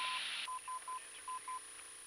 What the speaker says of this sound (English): Look at that Morse right there.